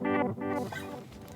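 An electric guitar runs through a reverse tape delay effect in Guitar Rig: swelling, backward-sounding sustained notes rise and fade in short waves, close and alone, with a smeared, warbling tail.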